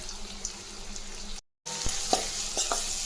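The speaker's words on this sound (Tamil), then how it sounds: "நல்லா இதை வதக்கிடலாம்" Chopped onion with a pinch of asafoetida sautéing in a pan for tomato kuzhambu, a low steady sizzle broken by a brief silent gap, then a few close clinks and scrapes of stirring.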